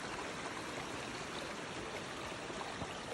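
Creek water flows steadily over rocks, a broad continuous rushing close to the listener with no talk, heard in a morning outdoor setting near a waterfall.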